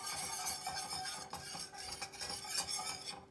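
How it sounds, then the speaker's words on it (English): A metal whisk stirs cocoa and powdered sugar together in a pot, giving a quick, busy scratching and clinking against the sides. The strokes come close and steady, with no talking. "what I wanna do is just take my whisk and combine those"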